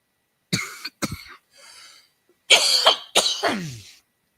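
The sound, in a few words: coughing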